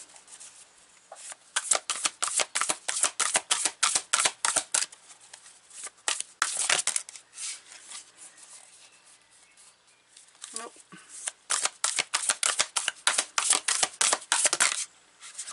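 A deck of Sufi Tarot cards is shuffled up close in quick, rhythmic riffling bursts that run for several seconds, pause briefly, then start again. The snapping is crisp and loud, with no voice.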